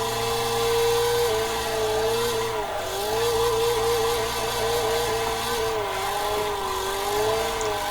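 Nissan 240SX with a KA24DE four-cylinder engine in the Assetto Corsa racing game, a steady droning engine note holding high revs with slight pitch dips and swells, continuous and close.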